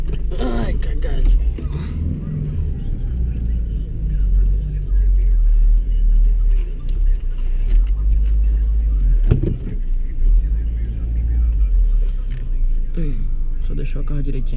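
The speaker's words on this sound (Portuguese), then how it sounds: "Só deixar o carro direitinho aqui." Car being parked aboard a river ferry, a low engine rumble and idle under heavy mechanical noise, with a few knocks and clunks and someone talking over it.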